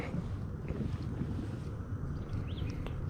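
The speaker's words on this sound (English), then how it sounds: "Sounds like a boat going across the water" A distant boat crossing a small Texas lake, heard as a steady low motor rumble beneath gusty wind buffeting the microphone from a kayak, continuous and fairly loud.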